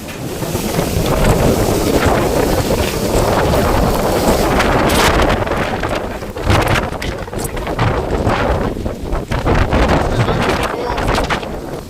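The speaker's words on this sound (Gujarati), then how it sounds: "ફૂલ વાવાઝોડું ચાલુ." Strong storm wind roars and buffets the microphone in loud, uneven gusts in Thordi village, with rushing noise throughout and no clear speech.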